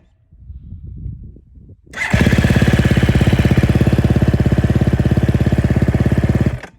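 A hot KTM 250 SX-F dirt bike is started without throttle: after a couple of seconds of low handling rumble it fires at once into a loud, close, steady idle that runs for several seconds, then cuts off abruptly.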